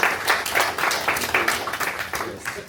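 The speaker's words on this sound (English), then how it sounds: "Let's give her another round of applause" Applause from an audience at a Sierra Leone diaspora committee inauguration in Brussels: dense, steady clapping from a crowd, fairly close and sustained throughout with no talking over it.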